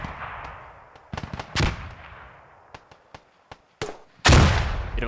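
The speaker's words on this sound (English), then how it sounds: "Bit of an underarm grenade there. I think that's going to go down the hill." Grenade blast in a multiplayer war video game, a loud broadband boom near the end following scattered sharp gunfire cracks across a battlefield, no talking.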